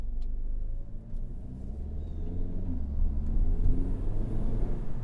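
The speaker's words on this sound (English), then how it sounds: "As you can hear, the engine and the exhaust do get quite loud." Engine and exhaust of a 2025 Hyundai Elantra N with DCT heard from inside the cabin while driving, a steady deep rumble that swells slightly as it accelerates, with no talking.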